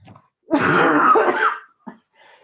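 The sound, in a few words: coughing fit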